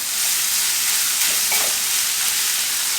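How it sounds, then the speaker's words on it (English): Highly seasoned sage breakfast sausage, broken apart lightly, browns in a hot pan with a steady, close, loud sizzle and hiss that runs throughout without pause or talk. "When you're browning the sausage, make sure that you don't mash it into the pan."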